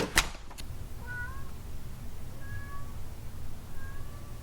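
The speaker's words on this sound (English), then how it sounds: "She's gonna start meowing." A few short, faint meows repeat at intervals over a low background rumble, following a couple of sharp clicks at the start.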